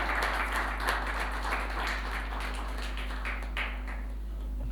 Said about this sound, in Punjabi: ਤੁਹਾਡੀਆਂ ਬਹੁਤ ਸਾਰੀਆਂ ਤਾੜੀਆਂ